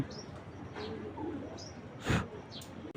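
Racing pigeons coo softly and intermittently, a few faint chirpy calls close by against a low steady background hum, with no voices.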